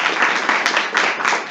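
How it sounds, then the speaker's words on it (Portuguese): An audience claps in steady, dense applause at a talk, filling the space loudly and evenly for the whole stretch. "Primeiramente, eu gostaria de pedir uma salva de palmas para o Rafael Pavão e para o Maurício Bento,"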